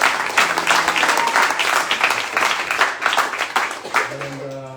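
Audience applause at a book event welcoming an author, a steady dense patter of many hands clapping throughout, with a few voices and murmurs mixed in near the end.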